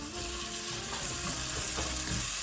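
Chopped onion and ginger sizzling steadily in hot oil for sweet and sour fish, a close, continuous frying hiss with occasional stirring scrapes and no talk.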